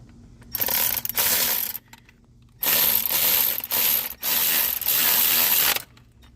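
A ratchet on an extension tightening the water pump bolts on a GMC Denali, with several bursts of rapid, close, loud clicking separated by short pauses.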